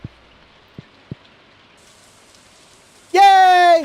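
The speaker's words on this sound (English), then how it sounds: "It's raining today" Rain falls steadily in the Stardew Valley video game, a soft, even patter running throughout, with a few low thumps near the start and a loud rising musical chime bursting in near the end.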